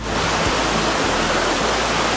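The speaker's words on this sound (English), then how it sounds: "The main draw in this park is SAUK Falls, the tallest waterfall in the state at more than 130 feet." Sauk Falls, a waterfall more than 130 feet tall in a Missouri state park, pours as a steady loud roar of rushing water.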